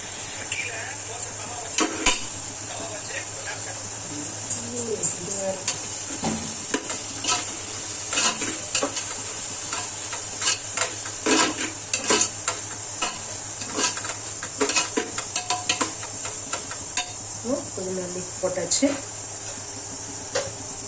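Mutton biryani with mint leaves being stirred in a pot, with soft scraping and clinking of a spoon against the metal over a steady low hum, with a voice talking over it.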